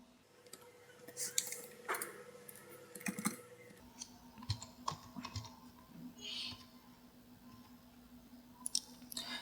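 Keys tapped on a computer keyboard while entering inventory details, quiet scattered clicks in uneven bursts over a faint background hum.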